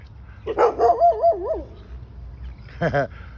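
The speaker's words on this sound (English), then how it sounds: "They're friendly dogs, and they're really amazing." Friendly dogs give a few short barks and drawn-out whimpering yips, close by, then a final bark burst after a pause, with a low background hum.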